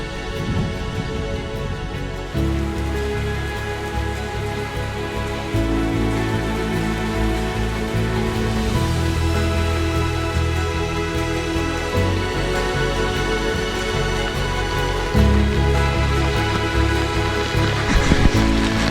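Rain falls steadily on a canoe floating on the Assiniboine River, a continuous close patter with faint low thumps mixed in, lasting throughout with no talking.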